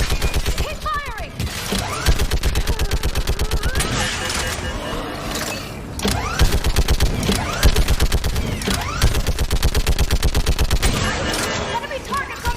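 Rapid automatic gunfire in the sci-fi shooter game Mass Effect 3 rattles in dense, sustained bursts with sharp impacts, loud and close, while voices speak over the combat.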